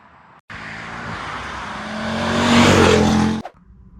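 Renault ZOE Z.E. 40 (R90) electric car pulling away on a German road, a steady broadband drive and road noise swelling over three seconds with a rising whine, then cutting off abruptly.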